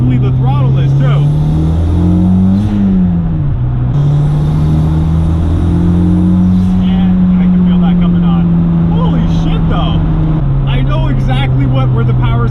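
A supercharged V6 Toyota MR2 with a J32A2 engine drones loud and close from inside the cabin, its revs rising and dipping as the throttle opens, while someone talks throughout.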